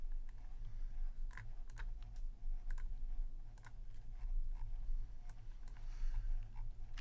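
Quick, uneven bursts of computer keyboard keystrokes click close by over a low background hum, with brief pauses between flurries and no voice.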